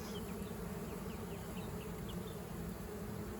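A honey bee swarm fills the air with a steady, dense buzz, many bees fanning their wings close by, with brief higher whines from individual insects passing near.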